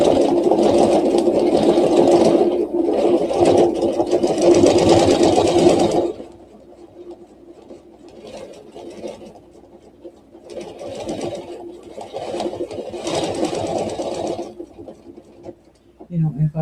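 A sewing machine restitches a Baptist Fan quilt panel, running in loud steady bursts of rapid mechanical whirring, stopping for several seconds, then starting again for another long stretch.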